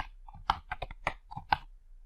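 Quick, close clicks of a computer keyboard as an email address is typed in, coming in an uneven burst of about a dozen keystrokes with short pauses between them, no voices.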